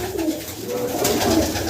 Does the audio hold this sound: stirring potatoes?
no